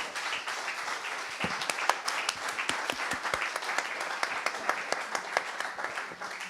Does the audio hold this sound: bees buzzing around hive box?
no